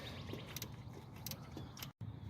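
Wrench working a bolt loose while removing the alternator from a 1999 Lexus ES 300, giving soft metallic clicks and small mechanical shifts in a steady, close, low-level rhythm.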